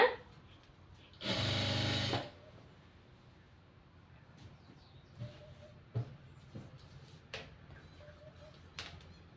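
A home sewing machine runs a short burst of about a second while hemming the bottom fold of a nightie, whirring close and loud, followed by quiet handling clicks and small knocks.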